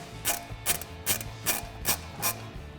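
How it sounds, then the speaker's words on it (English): A 1/2 inch drive ratchet with a 15 mm socket clicks as it loosens caliper bolts on a 1999-2004 Mustang, giving six evenly spaced, close ratcheting bursts with no talking. "I got my 15 millimeter socket on my 1/2 inch drive ratchet. And I'm just going to break these loose."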